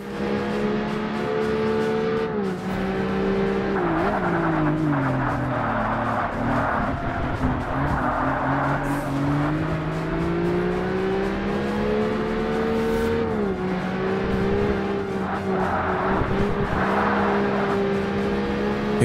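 A TVR race car in Forza Motorsport (2005) roars continuously, its engine rising and falling in pitch through gear changes and throttle lifts, loud and close with no speech.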